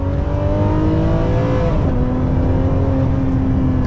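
A Ferrari 599 GTO's V12 engine revs loudly while the car is driven, a dense, raw roar heard from inside that climbs in pitch, dips briefly as it shifts and then pulls steadily again, with no talking over it.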